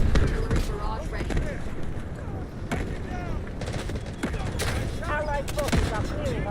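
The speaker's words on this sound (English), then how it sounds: "Artillery barrage ready." Artillery barrage and gunfire in the video game Delta Force: repeated sharp blasts and crackling shots over a dense battle din, with voices talking throughout.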